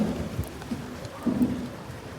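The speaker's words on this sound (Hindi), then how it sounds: "तो बारिश स्टार्ट हो गई है" Rain falls steadily outside a window during an afternoon shower, a soft continuous patter with a few slightly louder drops, close and alone.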